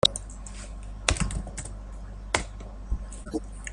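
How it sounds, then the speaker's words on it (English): Keys on a computer keyboard are tapped, mostly the tab key, giving a few sharp separate clicks spaced about a second apart against quiet room noise. "So what you need to do is click at your keyboard, tab key, tab, tab"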